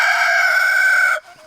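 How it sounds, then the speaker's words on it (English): A rooster among chickens crows once, loud and close, with a single sustained, strained call that cuts off abruptly, leaving faint background clucking. "Right on cue. So there's the rooster."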